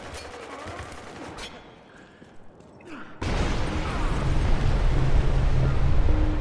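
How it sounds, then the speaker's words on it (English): Gunfire in the Spec Ops: The Line multiplayer team deathmatch, weapons shooting out windows: after a quieter stretch, a loud, dense burst of continuous firing takes over and keeps going to the end. "we're shooting out all the windows"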